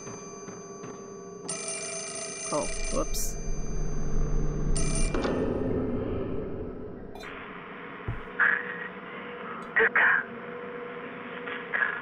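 A telephone rings in the horror game Fatal Frame: Mask of the Lunar Eclipse, with bright electronic ringing bursts and later sharper tonal chimes over a dark ambient background, while a person talks briefly over it.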